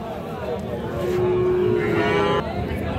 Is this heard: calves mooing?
yes